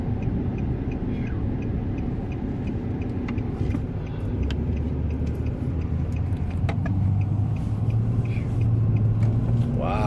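Cabin of a 2018 Nissan Frontier V6 pickup driving with windows up and AC running: a steady low engine and road rumble, quiet and even, with a slight rise near the end.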